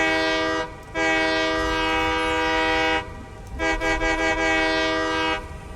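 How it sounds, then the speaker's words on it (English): A train horn in the factory-building video game Satisfactory blares two long, loud sustained chords, each cutting off abruptly. The second comes with a stuttering start. "Love the train horn."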